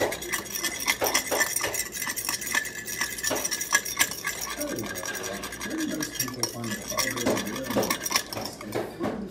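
A fork clinks and scrapes steadily against a bowl while ingredients for KFC-style crispy fried chicken are mixed, with dense metallic tapping and rubbing throughout, up close and alone.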